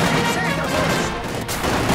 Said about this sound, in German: Bewegung, wir werden von Infanterie beschossen!